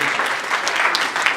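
Brief burst of dense audience applause at a book launch event honoring an architect, continuous and fairly loud with no break.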